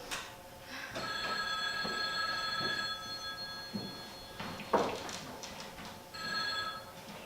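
An old-fashioned telephone bell rings in repeated bursts with short pauses between, clear and fairly close, with a brief clunk partway through, in a radio drama.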